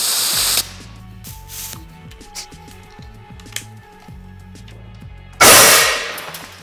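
A CO2-powered airsoft grenade vents gas in a loud hiss that opens the clip, then cuts off. A quieter stretch with faint clicks and clatter follows before a second strong, forceful blast of gas that tapers away.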